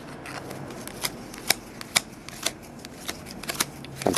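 A stack of football trading cards is thumbed through by hand, giving a run of crisp, close flicks and snaps at an uneven rhythm over a soft background hiss.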